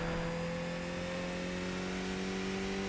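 A simulated Skip Barber race car engine in iRacing at Suzuka drones steadily at mid pitch, its tone holding level through a quick downshift, close and continuous with no talk.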